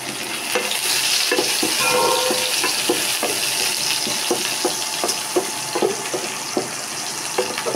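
Chopped vegetables for a restaurant-style mixed vegetable curry briefly frying in a pan, a continuous sizzle broken by a regular series of stirring clacks and scrapes, with no talking.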